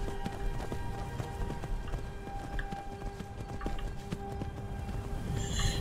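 Horse hooves clip-clop at a steady running gait while riding through the mountains in the video game Skyrim, a close, continuous rhythmic pounding with faint game ambience and no speech.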